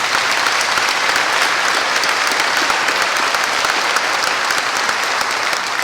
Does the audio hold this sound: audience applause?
yes